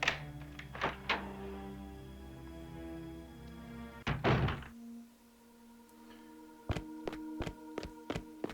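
Heavy door in a Resident Evil game unlocking and swinging open: a low droning tone and clunks, then a loud rattling thud near four seconds, followed by a quieter hum and a series of evenly spaced dull knocks toward the end.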